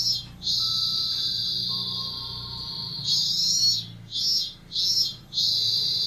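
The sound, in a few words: cicada sound effect for an outdoor scene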